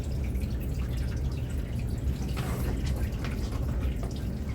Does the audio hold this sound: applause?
no